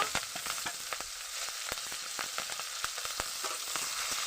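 Green chillies and five-spice seeds fry in hot oil for a mixed vegetable dish, a soft continuous sizzle broken by quick, regular crackles and spatula ticks, close and alone.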